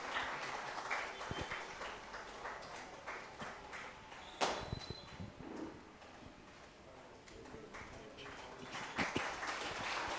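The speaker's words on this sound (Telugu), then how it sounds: "అందరం కూడా చప్పట్లతో అభినందించుదాం." Moderate audience applause at the consecration of a new Marian shrine as a cardinal honours a priest, scattered, uneven clapping with occasional thumps and shuffling, and some voices beneath.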